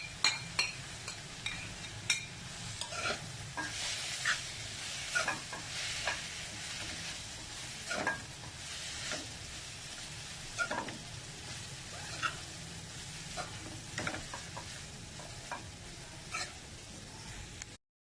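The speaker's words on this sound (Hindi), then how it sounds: "इसमें अब हमने ये चिकन मिक्स कर देना है जो हमने अलग से कुक किया था।" Cooked chicken filling with soy sauce and chili sauce being stirred in a sizzling pan, steady frying hiss broken by repeated scraping and clinking strokes of the spoon against the pan.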